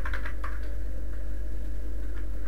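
Keys clatter on a computer keyboard in a few quick taps, close and moderately loud over a steady low electrical hum, then fall quiet with only sparse strokes afterwards.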